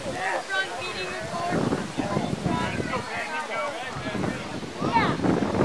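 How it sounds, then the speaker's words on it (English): Gusty wind buffets the microphone outdoors in Jordan, Minnesota, during a cold front, a rough, fluctuating roar close to the mic with a few faint voices beneath. "it's obviously windier"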